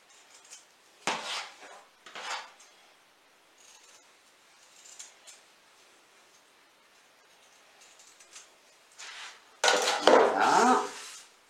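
Scissors snip the corners of sewn fabric in a few short, crisp cuts separated by quiet pauses, followed by a louder rustle and crunch as the cloth is handled close by.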